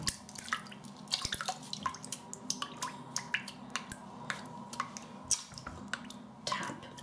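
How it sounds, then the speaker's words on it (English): A bathroom tap drips steadily into water, with a fast, irregular patter of small splashes repeating close by over a low background hum. "Tap, dripping, hate it."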